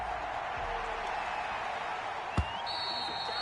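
Stadium crowd noise before an NFL game in Madden 21, Dublin Shamrocks versus Miami Dolphins: a steady, diffuse roar of many voices held at an even level, with one brief thump near the middle and a thin high tone entering late.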